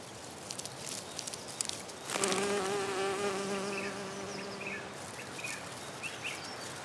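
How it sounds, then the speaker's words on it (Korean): Honeybees buzz close by around flowers, a sustained wavering drone that rises in pitch and loudness for a few seconds before fading back into faint outdoor background. "꿀벌은 꽃일을 합니다."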